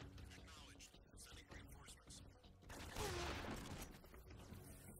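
Gunfire bursts in the stealth action video game Metal Gear Solid 3: Snake Eater, a dense loud volley swelling near the middle amid mechanical clatter, with background game sounds throughout.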